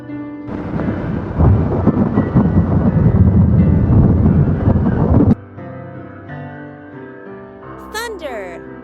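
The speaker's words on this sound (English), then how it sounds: "Thunder." A long, loud roll of thunder rumbles deep and continuous for several seconds, then cuts off abruptly to a quieter tonal background with a short rising sound at the end.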